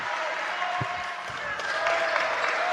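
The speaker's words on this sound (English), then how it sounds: "Crowd getting into it. You hear the bench into it." Crowd and team bench cheering during a high school varsity boys basketball game in a gym, a steady roar of voices and clapping with a ball bounce or two, under a commentator's talk.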